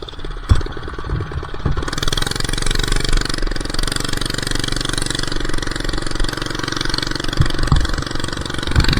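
A small minibike engine runs close and loud after a sharp start, holding a rough, steady idle with some revving throughout and no talk.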